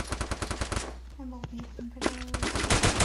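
Gunfire in a shooting video game: dense rapid bursts of automatic fire, close and loud, stopping for about a second while a voice talks, then starting again at full intensity.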